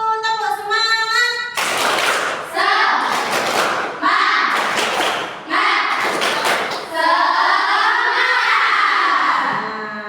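A school class performs a rhythmic spirit clap, bursts of group hand claps in patterned sets separated by short pauses, loud and close, with children chanting and a teacher's voice between the claps.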